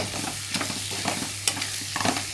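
An egg fries in a pan and gets flipped, making a steady close sizzle with a few sharp scraping knocks from the turner.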